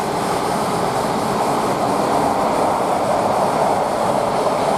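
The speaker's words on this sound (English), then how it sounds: "Freight train, Tesco train from Daventry." A Tesco freight train from Daventry, bound for Tilbury container terminal, passes through Milton Keynes Central station with a loud, steady rumbling roar of wheels and wagons rolling past, continuous and close, with no voices.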